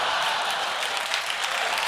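Studio audience applause at a late-night comedy show, dense steady clapping filling the room at close range and fairly loud throughout, with no talk over it.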